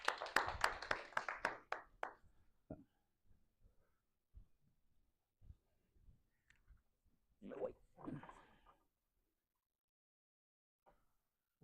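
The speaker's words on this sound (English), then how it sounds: "So let's give him a round of applause" Small audience at a Garden State Java user group meeting giving a brief round of applause, a short flurry of claps that quickly thins to a few scattered claps, then near silence with faint shuffles.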